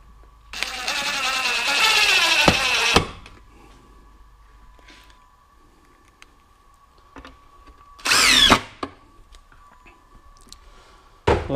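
A power drill drives screws into treated wood boards of a garbage can carrier for a side-by-side: a long, loud whirring burst, then quiet with faint clicks, then a short second burst near the end.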